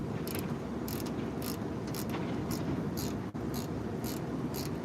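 A ratchet spins during a brake job while a brake caliper is being tightened, giving a fast, steady run of light metallic clicks in regular bursts, quiet and close, with no talking.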